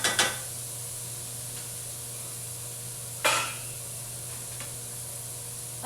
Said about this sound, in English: I like to use a wooden scraper because then you can like scrape up some of the brown bits on the bottom